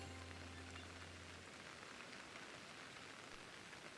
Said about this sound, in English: Sounds like it just now started raining.